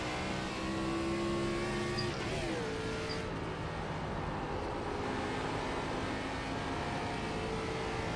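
Race car engine in a NASCAR sim racing video game at Pocono, a loud continuous high-revving drone with tonal pitch shifts as gears change, heard alone without talk.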